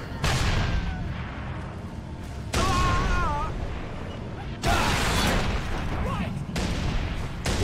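A Scorpion tank cannon in Halo 3 ODST fires four loud, heavy booms about two seconds apart, each with a rumbling tail, while voices talk in between.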